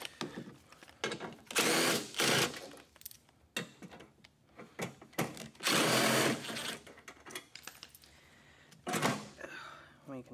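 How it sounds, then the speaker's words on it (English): A power tool, likely a ratchet, removes three 10 mm fasteners holding a fan on a Toyota Prius V during hybrid battery replacement, sounding in several loud, close bursts of whirring separated by pauses and small clicks. "we can remove the three fasteners that hold this fan on. They're all 10 millimeter"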